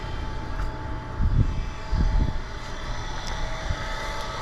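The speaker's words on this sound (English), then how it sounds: "this little noise is brought to you by the pool pump" Backyard swimming pool pump running in a garden, giving a steady droning hum with a faint whining tone over soft background rumble and a few low thumps, fairly close, with no talking.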